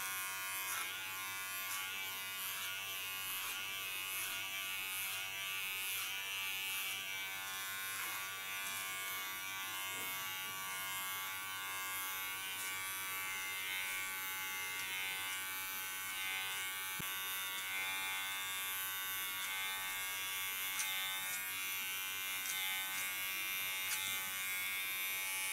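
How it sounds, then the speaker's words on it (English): Small electric hair clipper trimming fine hairs during a cut and color, a close, steady high buzz running unbroken throughout with slight changes as it moves over the head. "Get rid of small hairs, do this afterwards with my small clipper."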